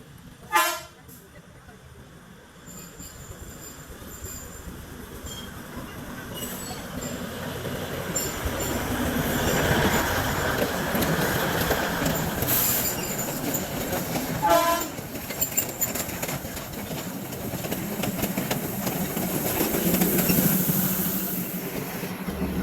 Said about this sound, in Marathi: हे बघा मस्तपैकी ट्रेन गेलेली आहे